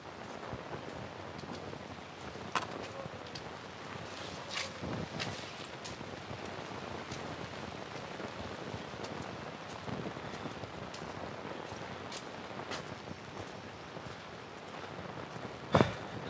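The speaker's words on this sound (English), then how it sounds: "on a rainy morning, rain and cold." Steady rain on a cold morning beside Nantes castle in France, a soft continuous hiss with occasional nearby drips and light wind noise, faint and even throughout with no voices.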